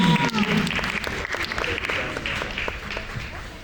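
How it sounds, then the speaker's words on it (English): Audience applause at the Alberta Culture Days 2022 music and dance celebration, steady dense clapping from a crowd lasting several seconds with a brief voice at the start. "a big round of applause"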